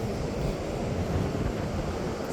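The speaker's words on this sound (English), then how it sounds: "Pretty windy out right now" Strong wind buffets the microphone on Rosarito Beach in Mexico, a steady loud rumbling gust with surf noise mixed in and no voices.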